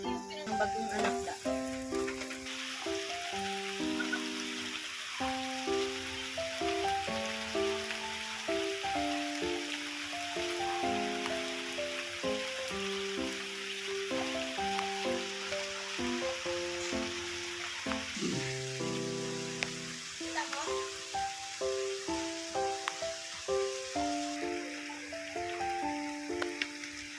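Steady rain falls during a countryside cookout while pork liempo grills, a continuous close hiss and patter running throughout, with music playing over it.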